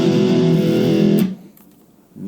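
Electric guitar played through an amp on a crunch distortion setting, a loud sustained gritty chord ringing for over a second, cut off into near silence before another chord starts.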